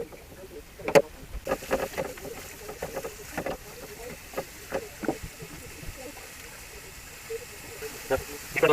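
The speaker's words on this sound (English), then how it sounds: "Then you want to put your mushrooms in there, and we're just going to brown them." Quartered mushrooms browning in a hot pan give off a steady low sizzle and hiss, broken by scattered clicks and taps of cookware, faint and close by.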